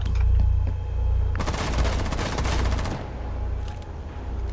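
Rapid automatic gunfire in Rainbow Six Siege, a loud close burst of about one and a half seconds, surrounded by low game ambience and a few faint later clicks.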